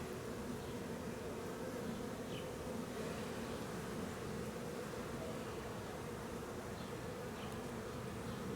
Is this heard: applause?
no